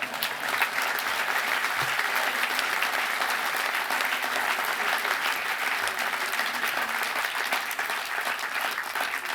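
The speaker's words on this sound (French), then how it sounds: "ça mérite quelques applaudissements." Audience at a political investiture meeting breaks into sustained applause, a thick, even roar of many hands clapping at a steady level throughout, with no voices standing out.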